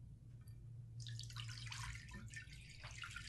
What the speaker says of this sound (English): let's add our water to our container one last time.